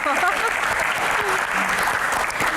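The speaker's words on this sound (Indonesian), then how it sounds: "tepuk tangan dulu" A live audience at a Q&A session with a guest breaks into dense, steady applause that fills the room, with faint voices mixed in.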